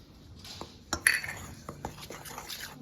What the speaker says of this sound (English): Stir this well to combine.